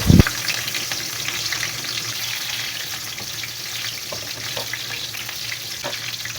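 Onion, curry leaves and lemongrass hit hot oil in a pan with a sharp initial burst, then settle into a steady, close, moderately loud frying sizzle with faint stirring scrapes.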